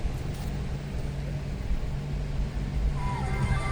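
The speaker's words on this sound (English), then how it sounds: "Fires right up, purrs like a kitten" A 1987 Toyota Land Cruiser 4x4 engine idles with a steady, low, even rumble that stays close and constant throughout.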